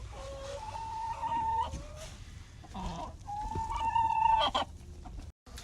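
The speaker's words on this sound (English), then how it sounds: "My family has chickens, so we get fresh eggs every day." A family's backyard egg-laying chickens cluck in two long, rising calls with short sharp notes between them, close and fairly loud, followed by a brief drop to silence near the end.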